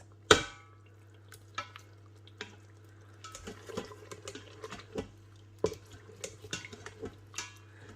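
A lamb leg browns on the lower sauté setting of an Instant Pot Duo pressure cooker, with scattered clinks and scrapes of a utensil against the inner pot over a steady low electrical hum.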